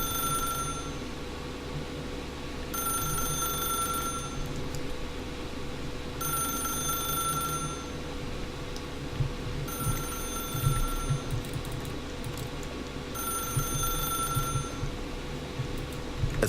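A telephone rings in the video game The Stanley Parable, four evenly spaced electronic ring bursts separated by pauses, clear over a steady low ambient hum with no talk.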